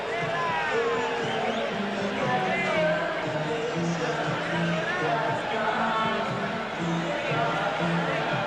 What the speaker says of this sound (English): Let's get a sense of the crowd.